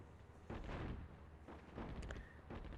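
Airstrike explosions in a WWII North Africa strategy game set at El Alamein, several muffled booming impacts in quick succession at moderate distance, with a faint tonal blip among them.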